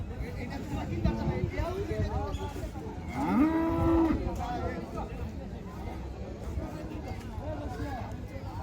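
A cow lets out a loud, drawn-out moo, with other cattle calling amid the steady murmur of a crowded outdoor village livestock market held on a primary school field.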